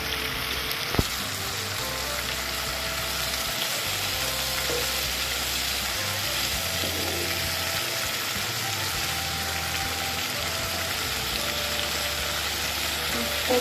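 Potatoes fry in a pan with a steady, close, even sizzle that holds for the whole stretch, with one brief knock early on.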